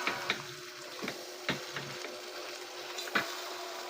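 Chicken wings frying in butter instead of oil, giving a quiet sizzle with a few sharp ticks and pops spaced irregularly, close and fairly faint.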